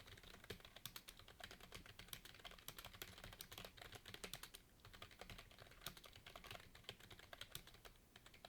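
Rapid typing on a computer keyboard while entering Korean and English text in a word-processor exercise, steady close clatter of keystrokes throughout, faint and with no voices.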